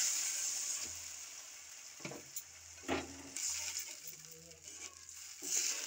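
Water is poured into spiced masala frying for a bele fish curry, producing soft hissing sizzles and a few splashing surges at a low volume, with no talking.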